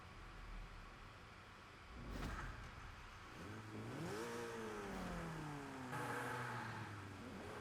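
A Renault 8 Gordini in Forza Horizon 5 revs and accelerates, its engine note climbing and falling through gear changes, steady and fairly close over a hissy background.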